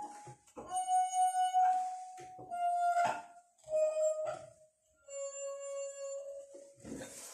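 Clear, sustained ringing tones from rubbed water-filled wine glasses of a glass harp sing one after another, each pure and hovering, with short gaps and faint handling sounds between.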